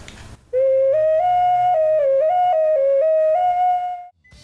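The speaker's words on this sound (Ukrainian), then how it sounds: "Це тачка, яку вручну зробили, в неї принцип свистка є. І вона може отакі от речі виробляти." A handmade clay toy cart built to work as a whistle gives a loud, clear, sustained whistle that steps up and down in pitch for about three and a half seconds, heard close and alone.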